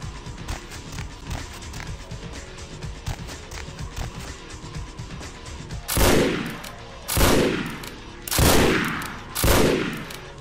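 Gunfire in Vampire: The Masquerade – Bloodlines: four loud, booming game gunshots with decaying echoes, spaced about a second apart, following a stretch of busy in-game action noise.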